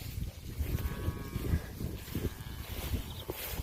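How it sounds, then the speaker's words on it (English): A black Angus cross cow with a little Murray Grey, freshly calved on a farm, gives faint, drawn-out lowing calls over steady outdoor rumble and shuffling. "So this is a cow we raised"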